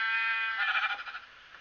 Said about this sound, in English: sheep escaping